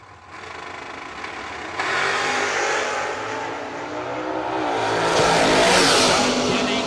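A Chevrolet Camaro race car roars off the line at a drag strip, its engine building steadily from a loud start to a rising, howling crescendo as it accelerates away, with broadband race noise filling the whole stretch.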